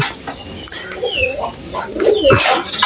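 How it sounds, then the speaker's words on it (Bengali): Domestic pigeons kept at home with their squabs coo in a series of soft, throaty calls, close and fairly loud, with light chirps mixed in. "এখানে কবুতরের বাচ্চা আছে ভিতরে আর বাইরে বড় কবুতর গুলো দেখতে পাচ্ছেন"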